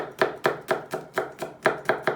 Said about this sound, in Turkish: İki diş de sarımsak doğradım.